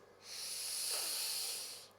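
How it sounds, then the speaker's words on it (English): A single soft breath drawn in through the nose, a breathy hiss that swells and fades over about two seconds. "So when I normally breathe through my nose,"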